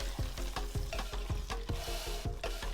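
Vegetables sweating in a dark roux for gumbo, stirred in a quick steady rhythm of thick scraping strokes over a constant close sizzle, loud and continuous with nobody speaking.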